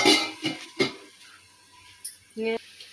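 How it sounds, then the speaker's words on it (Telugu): Chicken curry being stirred in a pot, with a few clattering scrapes of a spoon against the pot at the start and again near the end, separated by quiet. "చికెన్ కలుపుతున్నాను."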